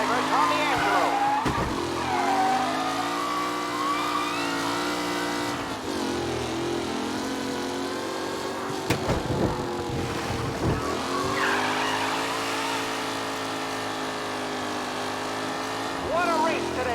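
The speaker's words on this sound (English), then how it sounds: "The leading drivers are on the final lap." Race cars roar through the final lap of a race in Mafia Definitive Edition, with engines whining loudly and continuously, pitch rising and falling as they pass, and tires skidding and squealing in bursts.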